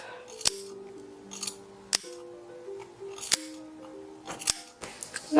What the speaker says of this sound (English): On all these outer curves, I'm going to clip them in little triangles.